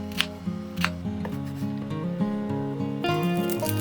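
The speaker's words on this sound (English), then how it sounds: "Peel and slice ginger into pieces." A knife peels and slices fresh ginger into pieces with a short series of crisp, close cutting snips and scrapes, heard over steady background music.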